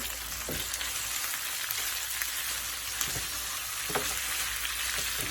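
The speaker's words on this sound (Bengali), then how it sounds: "আমি এই ভাজা পেঁয়াজের মধ্যে এখন গোষ্ঠটাকে ঢেলে দিচ্ছি" Beef tripe frying and being stirred with fried onions in a pan, giving a close, steady sizzle broken by occasional scraping stirs.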